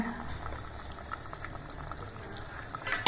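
A pot of chicken curry simmers at a steady bubbling boil, with a continuous soft gurgle close by and a brief clatter at the end.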